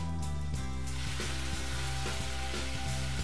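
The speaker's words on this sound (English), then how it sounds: "So we get a nice hard sear on the pork." Pork sears in a hot pan for a spring-twist pork carbonara, a steady, dense sizzle with an even hiss throughout and no voices over it.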